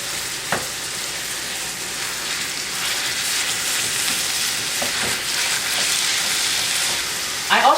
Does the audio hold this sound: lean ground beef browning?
yes